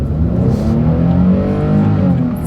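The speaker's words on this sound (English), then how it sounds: "let's see how quickly we can get our new 2024 Nissan Frontier here up to speed" A 2024 Nissan Frontier SV midsize pickup truck accelerates hard from a start on a road, its engine droning loudly and steadily close by with a rising rev, no talking over it.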